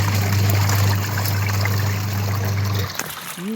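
Water runs steadily into a pond used for washing clothes at a busy fair, a continuous close trickling flow with a low steady hum beneath, cutting off near the end.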